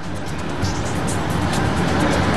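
Steady road noise from cars pulling up one after another to drop off passengers at NAIA airport, a loud continuous rumble and hiss with no talk.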